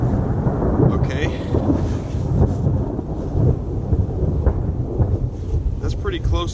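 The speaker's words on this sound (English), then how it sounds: "That's pretty close lightning." Deep thunder from nearby lightning rumbles and rolls through a steady, heavy rainstorm out in the wilderness, with wind gusting against the microphone and faint voices underneath.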